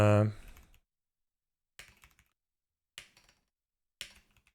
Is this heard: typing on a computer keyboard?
yes